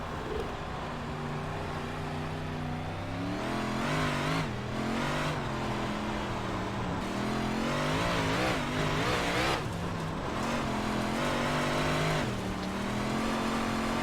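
Big Block Modified race cars in the iRacing sim at Cedar Lake Speedway, engines roaring and revving continuously with pitch rising and falling through gear changes, loud and close for the whole stretch with no talking.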